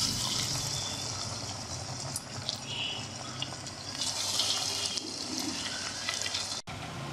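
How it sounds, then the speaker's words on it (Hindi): Chicken pakoras deep frying in hot oil over medium heat, a steady, dense bubbling hiss that rises and falls slightly, close and continuous, with no talking. "चलिए हम पकौड़े को फ्राई करेंगे।"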